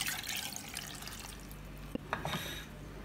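Water goes into a small nonstick pan with pandan leaves, a faint soft trickle and splash with a couple of small drips and clinks near the end, quiet and close.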